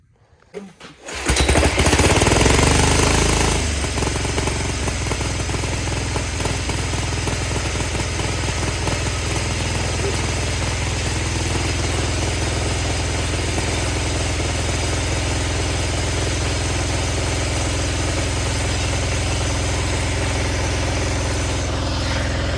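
A small Yanmar diesel engine swapped into a vehicle starts up and settles into a loud, steady, close-up chugging idle that runs without a break, its exhaust needing replacement.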